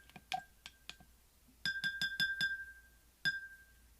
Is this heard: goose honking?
no